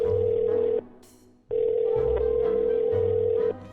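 A phone line rings on speaker: two long electronic ring tones separated by a pause, with a low hum beneath, and nobody answers.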